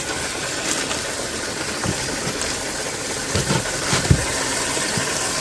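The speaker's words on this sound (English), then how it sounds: "I'm filling this tub with water" Water gushes steadily into a tub for a bonsai feeding, a loud, constant rushing hiss with a few small knocks and splashes.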